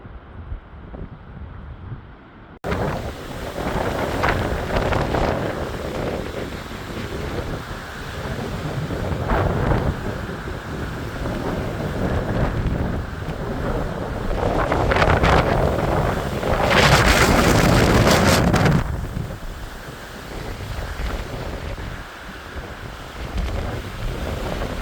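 Strong, continuous wind roars and buffets against the microphone on a hike during a Colorado wind storm, surging in louder gusts in the middle, with no talk.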